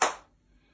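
A single sharp hand clap during a clap-and-jump game, one brief crisp slap near the start that decays quickly into near silence.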